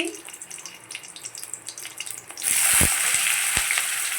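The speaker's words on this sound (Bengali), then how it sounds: "এর মধ্যে আমি গোটা জিরে ফোড়ন দেবো ফোড়ন দেওয়ার মতন কাঁচা লঙ্কা দিচ্ছি" Whole cumin seeds and green chillies hitting hot oil, a quiet start that suddenly bursts into loud, close crackling sizzle with a few sharp pops, continuing steadily.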